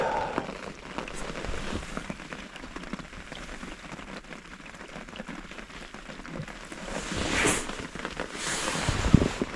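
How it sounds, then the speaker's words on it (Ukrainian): Steady rain patters and hisses on a surface throughout while fishing outdoors, with a few louder bursts of drops toward the end. "Такий неслабенький сьогодні дощик."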